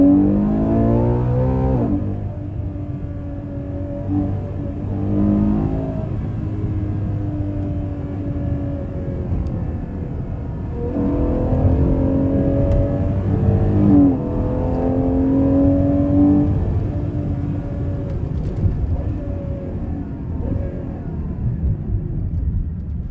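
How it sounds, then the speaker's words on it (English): A Ferrari Purosangue four-door driven in the rain, its engine revving hard in repeated rising sweeps with a deep rumbling roar, heard close and continuous with no speech. "Do you want to hear this engine sing?"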